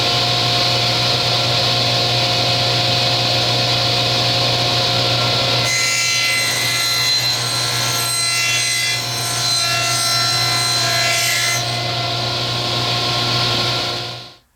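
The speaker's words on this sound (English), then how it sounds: "we'll take some 1/8 of an inch stock, and we're going to run it through the saw, running a dado 1/16 of an inch thick" A saw runs a dado groove through 1/8 inch wood stock, starting with a steady loud motor whine, then a harsher cutting rasp through the middle as the piece feeds through, and a quick spin-down at the end.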